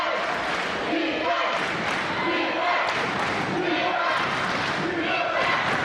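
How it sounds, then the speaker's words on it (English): A crowd roars and cheers at a Ventura women's community college basketball quarterfinal, a loud, sustained swell of voices with shouting throughout. "Crowd alive here in Ventura"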